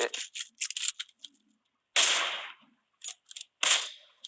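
Rapid gunshots ring out in PUBG Mobile, a quick string of sharp cracks followed by a couple of louder, longer blasts and a final burst.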